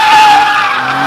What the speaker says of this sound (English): And they do burnouts, donuts,